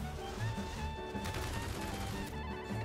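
Gunfire from the Ashfall mobile game, a post-apocalyptic nuclear survival shooter: rapid bursts of automatic shots rattle continuously at moderate level, with no talk over them.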